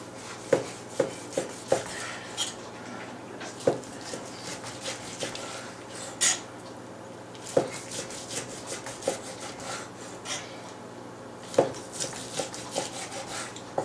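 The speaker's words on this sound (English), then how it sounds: "As I'm cutting my slices, I'm going to take them and I'm going to lay them in my pan" A knife slices through a piece of ham on a cutting surface. Soft, regular rubbing strokes and light taps repeat close by through a quiet kitchen.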